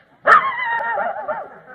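A man imitates a dog with his voice, giving a single drawn-out bark that trails into a whining, yowling tone, close and fairly loud on its own.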